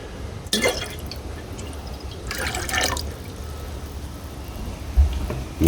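Copper solution is poured into a gold solution, giving short bursts of liquid splashing and trickling over a low background rumble, close by, with no talking.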